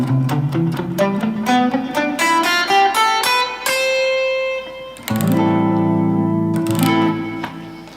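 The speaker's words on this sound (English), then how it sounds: "So altogether the whole scale in the first position sounds like this." Guitar playing the full Aeolian (natural minor) scale in first position, ascending note by note with ringing plucked tones, then a strummed chord near the end; clean and alone, no talk.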